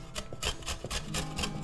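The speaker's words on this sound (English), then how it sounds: "I'm grating the beetroot." Beetroot is rubbed against a grater in quick, regular rasping strokes, about four per second, close and steady with no talk.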